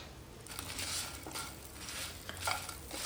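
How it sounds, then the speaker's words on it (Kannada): Coriander seeds, cumin, urad and chana dal, and long red chillies fry in coconut oil over medium flame for a Mangalorean ripe mango curry, a soft continuous sizzle with faint stirring scrapes and pan knocks. "ಎಣ್ಣೆ ಬಿಸಿಯಾದಾಗ ಇದಕ್ಕೆ 1 ಟೇಬಲ್ ಸ್ಪೂನ್ ಕೊತ್ತಂಬರಿ ಬೀಜ, 1 ಟೀ ಸ್ಪೂನ್ ಜೀರಿಗೆ, 1 ಟೀ ಸ್ಪೂನ್ ಉದ್ದಿನಬೇಳೆ, 1 ಟೀ ಸ್ಪೂನ್ ಕಡಲೆಬೇಳೆ, 7 ಉದ್ದ ಮೆಣಸನ್ನು ಹಾಕಿ ಮೀಡಿಯಂ ಫ್ಲೇಮಲ್ಲಿ ಫ್ರೈ ಮಾಡ್ತೀನಿ."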